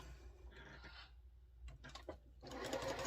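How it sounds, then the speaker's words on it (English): A sewing machine stitches the sides of a quilt block in short bursts of needle whirring, with a few handling clicks between runs and a longer burst at the end. "So I'm going to sew my sides on first."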